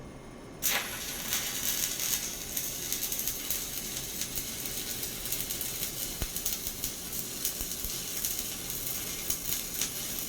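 An oxy-fuel torch tack-welds steel plate with a sudden pop on ignition followed by a continuous loud hissing roar with crackling, close up and steady with no talk.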